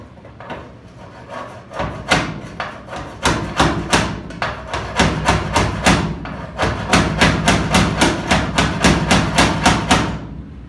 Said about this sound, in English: Trying to hit it right on the weld seam.